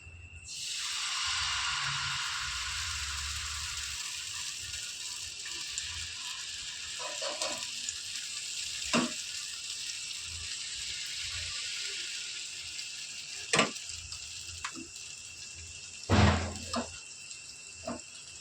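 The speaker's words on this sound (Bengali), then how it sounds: "তেল গরম হয়ে গেছে, এবার দিয়ে দেবো ব্যাটারটা।" Egg batter for dim porota frying in hot oil, a continuous bright hiss after it hits the pan, with occasional sharp utensil clicks and knocks.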